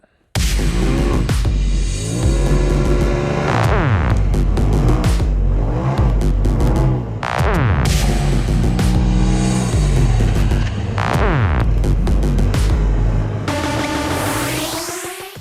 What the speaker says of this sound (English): This RZR is absolutely a blast to drive.